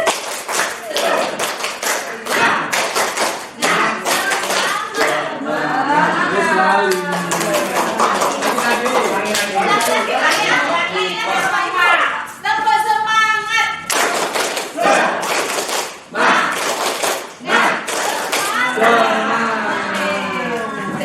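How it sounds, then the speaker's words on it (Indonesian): Group rhythmic clapping from a seated gathering of teachers doing a spirited ice-breaker clap, sharp patterned bursts of hand claps in quick sequences with brief pauses, mixed with voices and cheering throughout. "saya hanya minta tepuk semangat semuanya saja"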